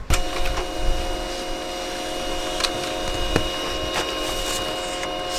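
A Pantum P2500W Wi-Fi laser printer prints a page up close, a steady mechanical whir with a thin tonal whine and occasional light clicks.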